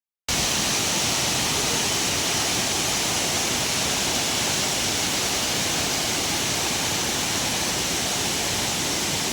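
Athirapilly waterfall roaring in a powerful, continuous rush of falling water, loud and close, starting abruptly and holding a dense unbroken hiss with no voices.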